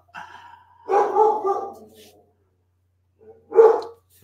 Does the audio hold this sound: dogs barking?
yes